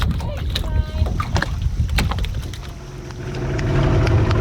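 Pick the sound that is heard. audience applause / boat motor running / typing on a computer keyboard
boat motor running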